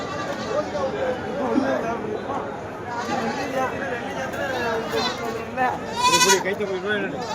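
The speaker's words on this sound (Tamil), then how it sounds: "நல்ல கரும்போர் ரெண்டு காதாடு உள்ள நிற்கி பாருங்க" Goats bleating at a livestock market, several calls over a busy hubbub of chatter and voices, with one loud, wavering bleat close by near the end.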